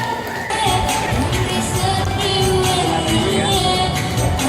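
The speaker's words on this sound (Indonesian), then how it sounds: "Boleh tepuk tangannya buat SMP Negeri 1 Sengkang" An audience applauds and cheers for students from SMP Negeri 1 Sengkang, a dense, continuous wash of clapping and crowd noise with some children's shouts, steady and fairly loud throughout.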